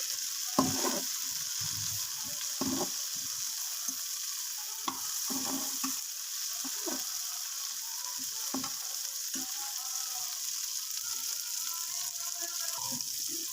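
Okra (bhindi) frying in ghee sizzles steadily in a pan, with intermittent stirring scrapes and clatters over a constant hiss, close and fairly quiet, with no talking.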